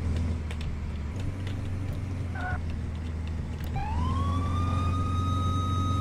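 An emergency vehicle siren in the video game Flashing Lights, a rising wail that starts partway through and holds steady over a constant low engine drone.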